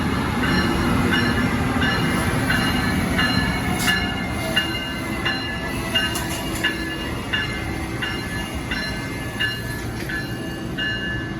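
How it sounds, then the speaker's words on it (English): An Amtrak Keystone passenger train led by an ACS-64 electric locomotive pulls into Princeton Junction station, a loud continuous rumble with rhythmic wheel clicks and brake squeals over the rail noise. "Keystone 646 is inbound. It'll be making a stop here at Princeton Junction."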